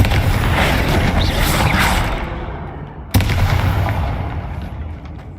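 Confringo fire spell blasts in Hogwarts Legacy: a loud sustained fiery roar that dies away, then a sharp second explosive hit followed by a rumbling tail, close and heavy.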